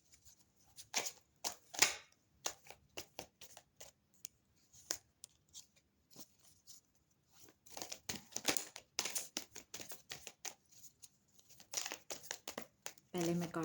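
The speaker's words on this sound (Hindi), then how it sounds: "पहले मैं कार्ड्स ले लेती हूँ," Tarot cards handled and shuffled close up, giving crisp intermittent flicks and riffles in short bursts separated by near silence, with a denser run of shuffling in the second half.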